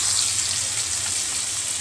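Garlic and chopped onion fry in a pan, producing a steady, dense hiss that is close and continuous for the whole stretch, with nobody speaking.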